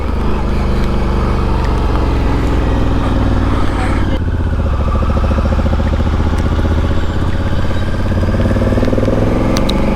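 A Honda Africa Twin motorcycle climbs steep, tight switchback turns on a wintry Swiss Alpine road, its engine loud and close with a steady throbbing beat that shifts pitch as the rider changes gear partway through.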